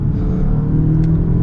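A 2023 Genesis G70 2.0t engine pulls hard under acceleration, a loud, steady, low droning growl that holds even throughout, with no voices over it.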